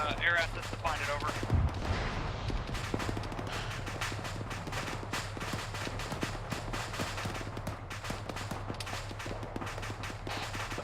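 Indirect fire artillery in the Arma 3 video game, a steady barrage of distant booms and gunfire crackle under radio chatter and talking throughout.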